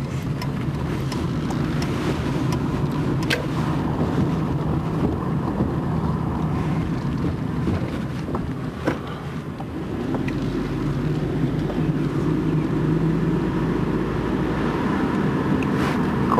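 Steady, fairly loud interior rumble and road noise from a car rolling through residential streets in Kenilworth Gardens, Wilmette, continuous throughout with wind-like hiss and occasional faint thumps, no talking.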